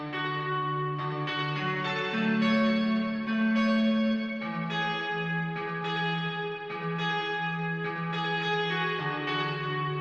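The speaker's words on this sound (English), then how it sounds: "And then at the end of the song we have this guitar." Sustained, bell-like guitar tones from the Ample Guitar TC virtual instrument ring out in a slow, steady melody over a low held note, with a long shimmering tail and no voices.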